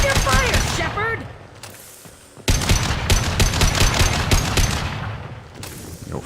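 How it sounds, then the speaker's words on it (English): Dense rapid gunfire from Mass Effect 2 crackles in sustained automatic bursts, loud and close, cutting out briefly before resuming; a voice is heard briefly at the start. "Hold your fire, Shepard!"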